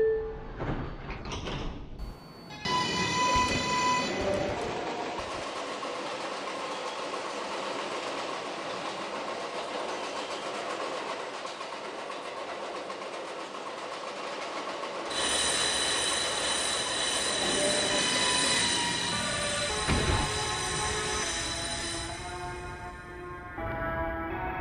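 A Bowling Green-bound 4 express train on the New York subway rumbles steadily in the station, with a door chime, a sliding door and a loud hum that continues after the doors close.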